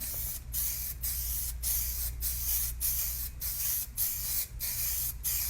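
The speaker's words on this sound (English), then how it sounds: "I'm going to come back with my white lacquer again and finish it." White lacquer sprayed onto glass in a steady run of hissing bursts, about ten short sprays with brief gaps between them, close and fairly loud.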